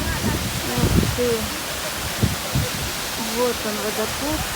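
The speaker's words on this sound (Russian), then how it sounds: "Вот он, водопад Галдоридон." The Galdoridon waterfall, reached on a hike, gives off a steady broad rushing hiss that fills the background while a nearby voice speaks intermittently over it.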